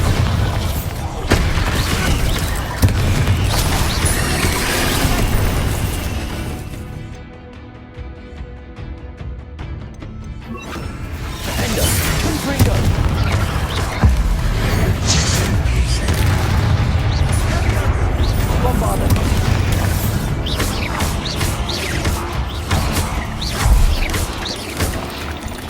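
Repeated Bombarda blasting-spell explosions in the Hogwarts Legacy video game, loud booming crashes and debris clatter over a dense game soundscape, with a brief quieter lull midway and a voice speaking at times.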